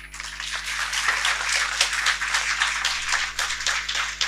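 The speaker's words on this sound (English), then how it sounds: "clap for them." Audience clapping at a business school convocation in Indore, a steady hall-filling round of applause with many individual claps audible, moderately loud over a low hum.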